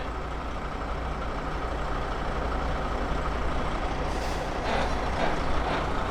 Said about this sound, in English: Got a log truck coming by.